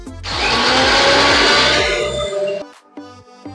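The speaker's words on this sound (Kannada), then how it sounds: "ಒಂದು ಮಿಕ್ಸಿ ಜಾರ್ಗೆ ಹಾಕ್ಕೊಂಡು ಅದನ್ನ ಇವಾಗ ನಾನು ಮಿಕ್ಸ್" A mixer grinder jar whirs loudly, grinding fried biryani masala spices in short pulses for a few seconds before stopping abruptly, followed by faint rattling as the spices settle.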